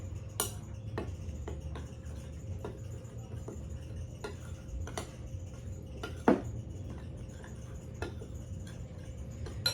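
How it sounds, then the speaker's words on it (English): Dry muffin ingredients, flour and salt among them, being stirred together in a mixing bowl for Elaine's muffin tops, giving soft repeated ticks and clinks of utensil against the bowl over a steady low background hum. "And then you're going to mix that together."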